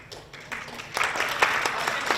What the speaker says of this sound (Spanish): Un aplauso a las chicas y a los sponsors.